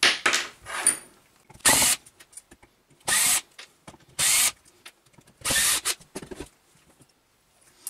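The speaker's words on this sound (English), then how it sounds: "Okay, that's all the screws out," Screws are driven out of a ceiling fan housing with a power drill during dismantling: four or five loud bursts of whirring, each about half a second long, broken by quiet clicks and handling noises, with no talking.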